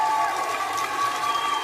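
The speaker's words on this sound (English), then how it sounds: "Crowd is well and truly involved here in Melbourne." Pickleball match crowd in Melbourne applauding and cheering, a steady wash of clapping and cheers throughout, with commentary voices over it.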